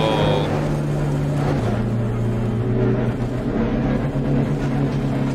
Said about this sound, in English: just as you can see, the car is moving out there